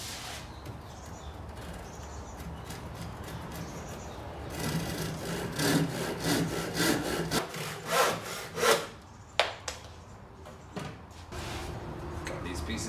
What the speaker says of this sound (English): And I'm going to cut off these corners.